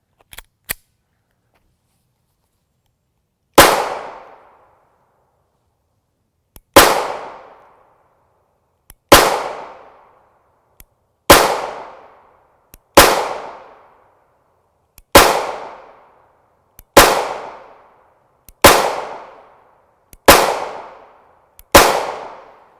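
Nine sharp, loud 9mm pistol shots from a Springfield Hellcat subcompact firing 124 grain FMJ steel-case ammunition, spaced about two seconds apart outdoors, each crack followed by a short decaying echo, with faint clicks between.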